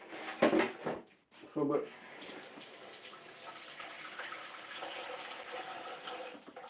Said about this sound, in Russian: Чтобы тесто не присохло, сразу заливаем водой.